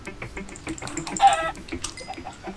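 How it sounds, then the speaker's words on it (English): Chickens clucking in the Minecraft FTB Unleashed modpack, a few short clucks and squawks over faint game sounds, brief and moderately close. "Oh, chickens!"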